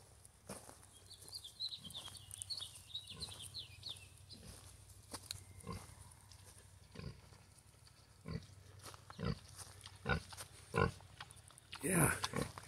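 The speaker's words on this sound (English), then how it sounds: "there's a big pig back here. I'm going to cut back and see if we can find. There he is. He's eating too." A large pig feeding on a farm in the morning, faint grunts and snuffling among scattered knocks and rustles, with a little distant birdsong and one louder burst near the end.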